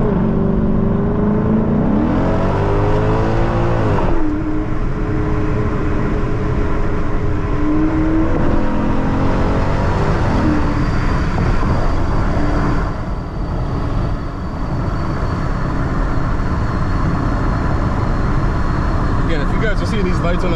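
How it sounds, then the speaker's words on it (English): A 450+ hp E85 Hyundai Genesis R-Spec revs loudly from inside the cabin, engine pitch rising through the gears with a dip at each shift during a night drive, with someone talking over it. "Transmission is shifting pretty good."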